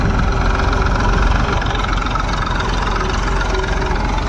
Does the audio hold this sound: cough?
no